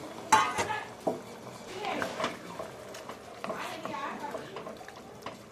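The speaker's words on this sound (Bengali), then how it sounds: "এবার এইটা খুব ভালো করে একটু মিক্স করে নিচ্ছি।" A spoon scrapes and clinks against a pan while a chili prawn dish is stirred and mixed, giving soft irregular knocks and a faint sizzle, fairly quiet, with a voice speaking over it.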